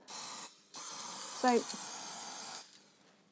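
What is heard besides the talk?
layering spray being sprayed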